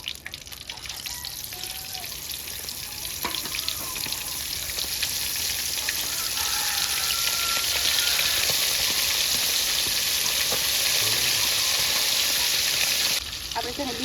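Pomfret fish fries in ghee with a loud, continuous bubbling sizzle, crackling spatters scattered throughout; the sizzle swells midway and then eases slightly near the end.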